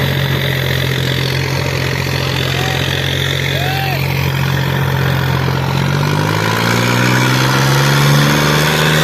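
A tractor engine labors pulling a loaded trolley through heavy soil in a village trolley-pulling contest, with a deep, steady throb, then revs harder and climbs in pitch toward the end, loud and close.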